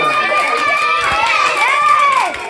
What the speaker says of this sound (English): Guys, come on, guys. Cheer for that.